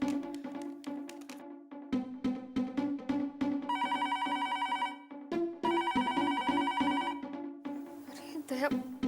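A telephone rings while a call is placed to a driver, with repeated bursts of electronic ringing alternating with clattering household sounds and voices nearby.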